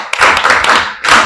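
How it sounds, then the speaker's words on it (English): A class clapping for a student in a maths lesson, a brief close burst of hand claps in two short rounds. "Please, let's clap for her."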